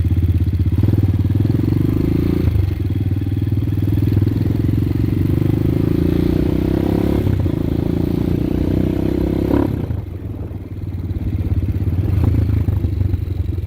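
A Hawk 250 supermoto motorcycle engine drones loudly and continuously while riding, with revs rising and falling, a brief dip near the end and no talking.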